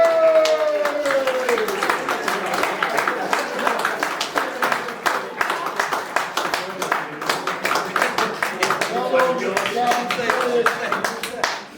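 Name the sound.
audience applause and cheering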